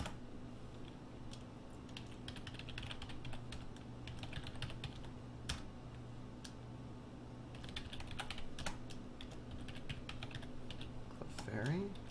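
Quick, steady clatter of typing on a computer keyboard during a Pokémon game stream, with bursts of keystrokes at close range that continue for several seconds and a brief voice near the end.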